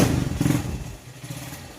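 A 2003 Honda Mega Pro motorcycle engine runs close by, a steady low rumble with a louder surge early on before settling into a rougher idle.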